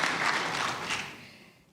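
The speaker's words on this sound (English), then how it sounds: "let's give another round of applause for the Gibson family" Audience applause fills a hall at an annual recommitment celebration, a dense wash of clapping that fades out over a couple of seconds.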